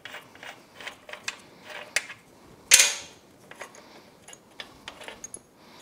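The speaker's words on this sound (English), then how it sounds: "And that is a 36 millimeter socket." A 36 millimeter socket on a ratchet turns the rear axle nut of a Suzuki GSX-R 1000, giving repeated clicking ratchet sounds and one sharp metallic clank as the nut breaks loose, close and clear.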